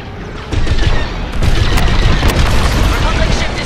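A Republic ship blows up in the Star Wars Squadrons space combat game, a sudden loud boom followed by sustained crackling blast and debris rumble, with a voice speaking over it.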